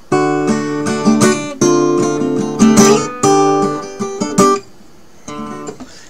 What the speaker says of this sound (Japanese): この D の音を常に開放弦で鳴らすんですよ。